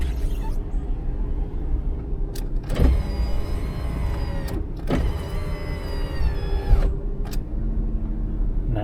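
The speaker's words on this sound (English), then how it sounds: "Now we're going to raise the windows first and then latch it" Power windows on a Ford Mustang convertible being raised: two steady electric motor whines, each running a couple of seconds with a thump at start and stop, close and clear over a low background hum.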